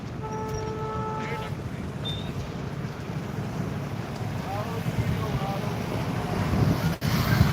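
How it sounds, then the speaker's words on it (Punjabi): Fast, flooded Sutlej river rushing past outdoors, a steady broadband roar of turbulent water mixed with wind buffeting the microphone, continuous and loud with a brief dropout near the end. "ਪਾਣੀ ਦੀ ਰਫ਼ਤਾਰ ਬਹੁਤ ਜ਼ਿਆਦਾ ਤੇਜ਼ ਹੈ"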